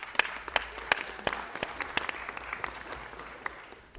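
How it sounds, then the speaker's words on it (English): Audience applause for the Hope Women at a Los Angeles city event, a dense steady patter of many hands with a few sharper near claps, sustained throughout. "Can we please give them a big round of applause?"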